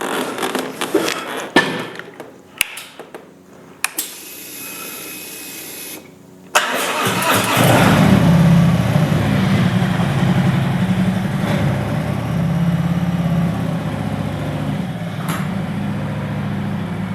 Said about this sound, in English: And the bike fired up here.